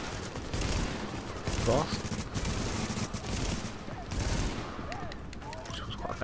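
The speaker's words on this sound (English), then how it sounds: "Just pop up burst fire." Burst gunfire in the Tom Clancy's The Division video game, repeated rapid volleys of shots over game noise with someone talking over parts of it.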